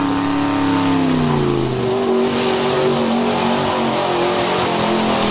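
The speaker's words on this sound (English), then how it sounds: "You see a lot of the tough trucks coming out and giving it a shot." A 4x4 off-road truck revs hard in a mud pit during a truck show challenge, its engine loud and close, pitch climbing and holding steady in a continuous strained roar.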